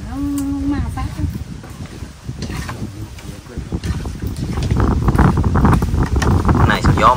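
Strong, cool wind blowing by a river during float fishing among water hyacinth, a continuous rumbling gust and buffeting that builds louder toward the end, with people talking throughout.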